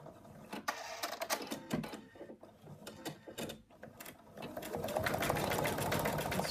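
Embroidery machine stitching an outline, a rapid mechanical chatter of needle strokes with clicking, ratcheting pulses that grows steadier and more continuous toward the end, fairly quiet and close.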